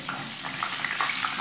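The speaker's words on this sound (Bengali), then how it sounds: "আমাদের ফুলকপিটা ভাজা হয়ে গিয়েছে" Cauliflower pieces frying in hot oil for a home-cooked roast give a steady close sizzle with small crackling pops throughout a short stretch.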